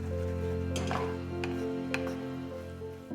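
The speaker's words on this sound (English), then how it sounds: "Mix the noodles in the sauce and cook for a few minutes." Noodles being tossed through sauce in a hot pan for scallion oil noodles, with a few light clicks and scrapes of utensil on pan over a steady low hum.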